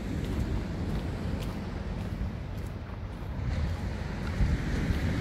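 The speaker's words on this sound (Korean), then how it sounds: "파도 소리 너무 좋다." Ocean waves wash onto a beach, a steady low roar of surf mixed with rumbling wind noise across the microphone, continuous and fairly loud with no talking.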